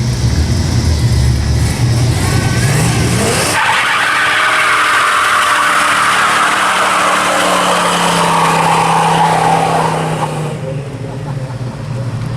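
A hot rod does a burnout at a car show tour, its engine revving hard under loud tire squeal and skidding that fills the clip, continuing for about ten seconds before easing off, with a crowd audible in the background.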